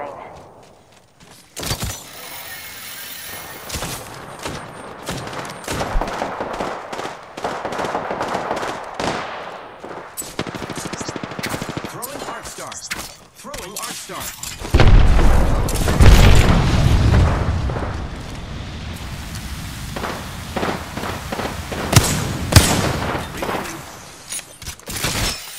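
Gunfire in the shooter game Apex Legends: repeated bursts of automatic shots and heavy booms, loud and near, with a dense sustained volley in the middle, over someone talking at times.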